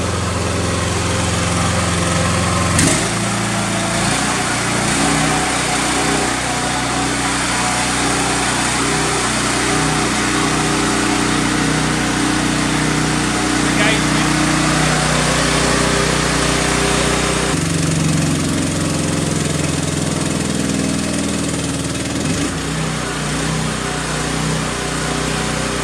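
A loud engine drives a hydraulic pump building toward 3,000 psi for a hydraulic oil injection test on a burst sleeve, droning continuously and close, with its pitch and load shifting several times.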